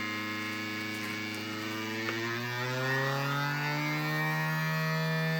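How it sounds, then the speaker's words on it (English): A basic home vacuum sealer runs steadily as it pulls air out of a plastic bag, a close, continuous motor hum whose pitch rises slowly as the bag empties. "we have just a real basic vacuum sealer that you have at home"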